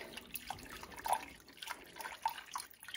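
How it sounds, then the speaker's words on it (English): Liquid is whisked as it is poured into a crockpot of pot roast and vegetables, giving quiet, uneven sloshing and dripping with small splashy clinks, faint and close. "I use a whisk as I pour it in"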